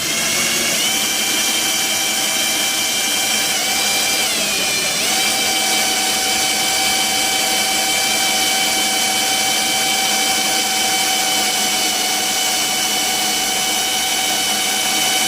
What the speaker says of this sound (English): just constant pressure, slow drilling.